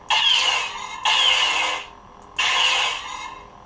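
Blaster sound effects from a TeensySaber Neopixel lightsaber running a Luke Skywalker Return of the Jedi sound font: three sharp, bright zapping bursts with a descending whine, each about a second long, played loud and clear.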